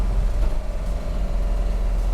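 A 1955 Ford Courier driving over road bumps, heard from inside as a steady low engine and road rumble that stays even and continuous, with no clear thumps standing out.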